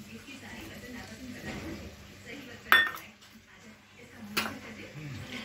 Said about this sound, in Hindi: अब मैं डाल दूंगी इसमें टमाटर